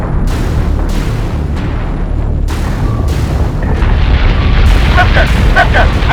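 Heavy booms and explosions from incoming fire in the Battlestar Galactica: Deadlock space combat game, loud and dense, rumbling continuously with several sharper blasts breaking through.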